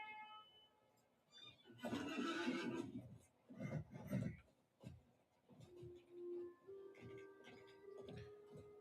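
A horse in The Lord of the Rings Online gives a loud whinny, followed by shorter snorts and game sounds with a faint tonal hum, in a quiet in-game outdoor setting.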